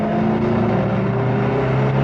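A getaway car in a radio drama roars along with a loud, steady engine drone and humming tones, close and continuous throughout.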